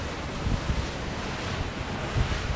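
Steady wind roars around the aero screen on the flybridge of an Azimut 72 Fly motor yacht cruising at speed, broadband gusty rushing with low buffeting thumps, loud and constant with no talk.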